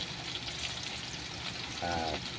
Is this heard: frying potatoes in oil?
yes